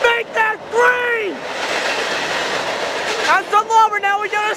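A Norfolk Southern freight train hauling gondola cars rolls past, a loud continuous rumble and rattle with squealing wheel tones rising and falling at either end.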